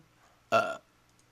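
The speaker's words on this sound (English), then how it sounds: "Burp." A single loud burp lasting about a quarter second, heard alone against a quiet background.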